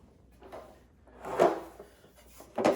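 Drawers slid into a Blackstone storage and prep cart during assembly, giving two distinct sliding thuds with quieter handling noise before them, close by and with no talking.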